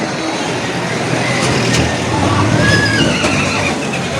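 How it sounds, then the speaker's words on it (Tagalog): A horse whinnies while horses are loaded at a livestock market in Padre Garcia, Batangas, over steady outdoor noise, with brief knocks and shuffling as animals move about nearby. "Kinakarga na yung mga kabayo."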